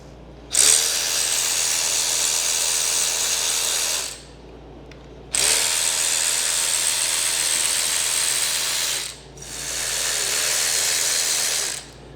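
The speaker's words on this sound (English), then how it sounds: "now I'm going to take the bolts out of the pump housing. Loosen them all first. Just crack them loose." Ratchet wrench cracking loose the O-ring-sealed pump housing bolts on a 4L60E transmission, heard as three long sustained bursts of rapid clicking, close and loud, separated by short pauses, with no talking.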